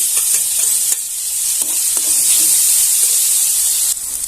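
Mustard seeds, cumin, chili and garlic sizzle loudly in hot oil for a spiced curry tempering, a steady close hiss and crackle with a few brief clinks and no voices.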